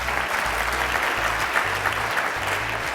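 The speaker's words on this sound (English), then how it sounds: "Yeah, you can clap." Steady, dense applause from a large keynote audience at a leadership speaking event, continuous clapping throughout with no talk over it.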